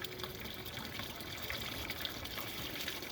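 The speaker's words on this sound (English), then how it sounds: "drinking from the water tap." Water runs steadily from the tap of a garden water butt, a continuous close splashing trickle with no voices.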